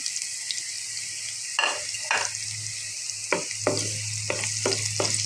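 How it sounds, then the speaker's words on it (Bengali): Onions sizzle steadily in hot oil under a bright hiss, broken by several scraping stirs of a spatula in the pan. "এখন পেঁয়াজটাকে ভালোভাবে ভাজার পরে কাঁচামরিচ দিয়ে দিব এখানে।"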